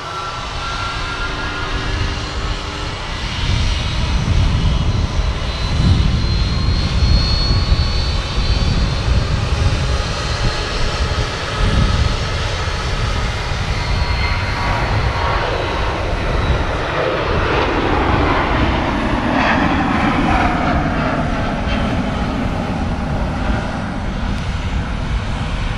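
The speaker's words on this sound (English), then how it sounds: "That aircraft just blasting off KLM 737 on its way to Amsterdam" A KLM Boeing 737 jet takes off from Manchester Airport with a loud, sustained engine roar that swells and then shifts in pitch as the aircraft climbs away, heard without any voices.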